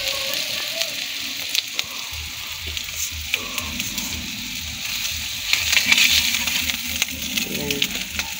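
Food sizzles and crackles steadily in a hot pan, with occasional stirring scrapes and brief bursts of louder spattering, close and continuous.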